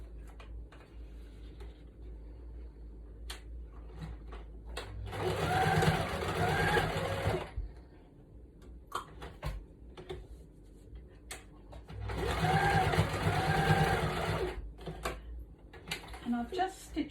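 A sewing machine stitches a lace motif onto a journal tag in two steady bursts of rapid whirring, each about three seconds long, with quieter handling sounds and pauses in between.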